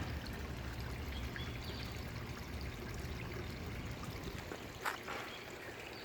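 Water from a pond pipe runs steadily along a small stream back into a garden pond, a constant close trickle and splash with one brief louder splash near the end.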